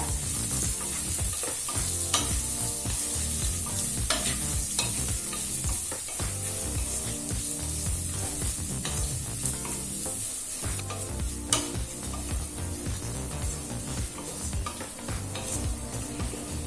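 Sliced onion with cashews fries in ghee for ghee rice, sizzling steadily up close with frequent stirring scrapes and occasional clinks of a utensil against the pan.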